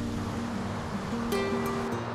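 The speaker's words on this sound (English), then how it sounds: "The waves were up really high" Ocean surf surging against shoreline rocks near a Cancun resort, a steady broadband wash with a swelling crash midway, close and fairly loud, with a faint voice-like tone running underneath.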